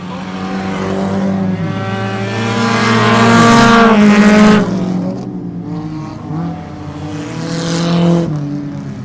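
Race cars roar past on a track during a race, loud overlapping engine notes swelling and fading as they pass, with rising and falling pitch and no talk over them.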